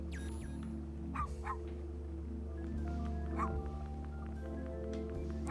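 A dog barks a couple of times in the video game Unsighted. The short barks sit over steady game music with a low droning bed, at a moderate level and fairly close.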